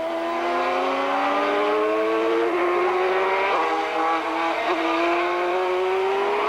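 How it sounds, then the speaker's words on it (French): Formula 3000 race car engine screaming at high revs while spinning out, a loud, continuous whine with pitch dropping and climbing again, with crowd and track noise underneath. "Un tête à queue de Gilbert Scott"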